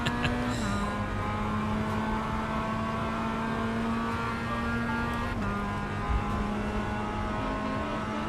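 An iRacing Mazda MX-5 race car engine hums at sustained revs, its steady tone stepping down at a couple of shifts, loud and continuous with faint background noise.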